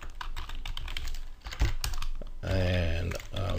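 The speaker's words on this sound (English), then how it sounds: "if I can type" Fast typing on a computer keyboard while coding in Unity, a close run of crisp key clicks and taps, with a voice briefly talking over part of it.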